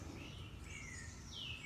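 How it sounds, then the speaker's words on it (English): Outdoor birds chirping, a few thin rising and falling whistled calls at a distance over a low, steady background rumble. "I have to excuse the birds."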